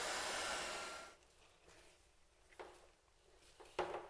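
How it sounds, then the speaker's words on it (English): A heat gun blows with a loud, close, breathy roar for about a second while softening fire retardant material, then switches off, leaving quiet handling clicks and taps. "you don't really want to hold your heat gun on this, so heat it down here"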